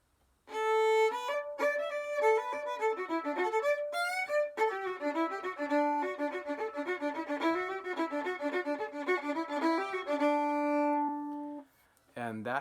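A simple version of the old-time fiddle tune Bonaparte's Retreat, played alone as a steady, clear melody with sustained bowed notes for about eleven seconds before stopping.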